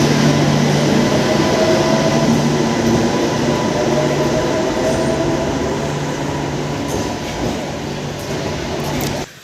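Ghatshila–Howrah local train at a station, a loud steady rumble of carriages rolling in with faint wheel noise, continuous throughout and easing slightly near the end, with no clear talk.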